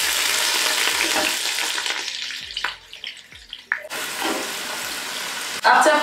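Chopped onions hit hot sesame oil and sizzle loudly, then the frying hiss drops and returns while utensils scrape and clatter against the pan, with a sharp burst of sizzling near the end.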